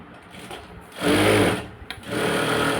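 A sewing machine runs in two short, loud bursts of close whirring while stitching a sleeve lining, separated by a brief pause with a small click.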